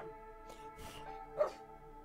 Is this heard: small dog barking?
yes